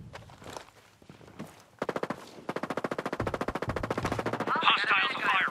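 Rapid bursts of automatic gunfire from a team shooter video game, starting with scattered shots and settling into a sustained machine-gun rattle. A louder crackling burst caps it at the end.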